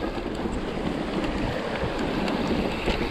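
Strong wind buffets the microphone in a continuous roar while crossing a bridge on a mountain bike trail in Whistler, British Columbia, loud and unbroken from start to finish.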